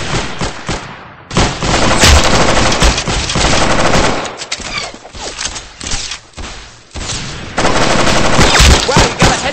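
Rapid machine-gun bursts and gunshots from the Roblox shooter game Arsenal fire loudly and continuously, with brief lulls between bursts.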